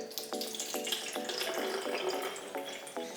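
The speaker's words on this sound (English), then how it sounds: "I filled 2/3 of the base of the volcano with vinegar" Vinegar being poured into the base of a model volcano, a faint close splashing and trickling with quick gurgling bubbles that runs steadily for a few seconds.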